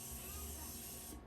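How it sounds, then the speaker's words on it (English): A fine, steady mist sprayed from a Morphe Continuous Setting Mist bottle onto a face, a soft continuous hiss of about a second, close and quiet, fading out at the end. "I like to go ahead and spray the Morphe Continuous Setting Mist to go ahead and"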